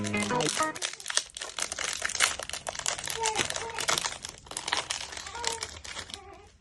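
A biscuit packet is torn open and crinkled close by, with continuous loud rustling and crackling plastic throughout and brief voices in the background.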